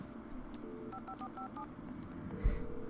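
Telephone dialing in the Alan Wake video game: a short run of quick, evenly spaced keypad tones over a steady hum, faint and without talk.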